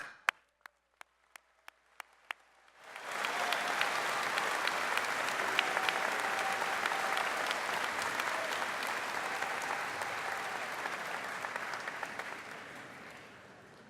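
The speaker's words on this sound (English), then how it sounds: "I believe this class deserves a big round of applause." Sustained applause fills a university convocation hall for graduating optometry doctors, breaking out after a few isolated claps and holding steady as a dense, loud crowd clapping with no talk over it.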